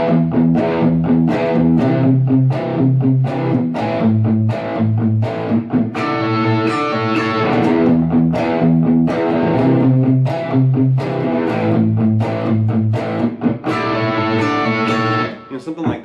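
Distorted electric guitar playing a rock song, loud and up close, with rhythmic chords and single-note picking on the low string, repeating in steady phrases.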